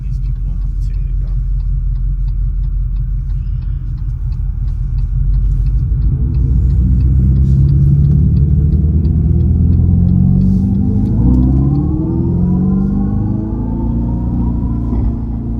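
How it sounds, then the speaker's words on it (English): A 2025 Dodge Charger Scat Pack EV accelerates hard, a loud low rumble that swells midway with rising whining tones as it pulls away close by. "it almost sounded like it had a blow-off valve or something on there"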